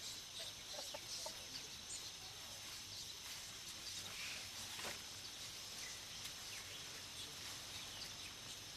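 Chickens cluck and call at a distance on a Pacific island, with occasional sharper crows over a steady bed of insect and outdoor ambience.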